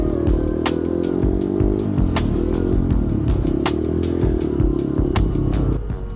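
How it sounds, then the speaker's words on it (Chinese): A Honda CRF150 single-cylinder off-road motorcycle engine runs close by with a loud, rough, steady idle thump and a rapid regular mechanical ticking over the top, easing slightly at the very end. "發動車輛的瞬間 ，CRF 的那顆單缸引擎傳來規律的震動"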